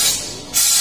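Fire extinguisher spraying during a firefighting drill at a naval technical training school, a steady broadband hissing rush that dips briefly mid-burst and then surges back louder, close and alone.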